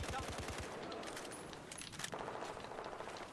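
Rapid automatic rifle fire from a SCAR-H in Battlefield 4 rattles in a quick burst at the start, then gives way to continuous dense battlefield noise with further shots, close and loud throughout.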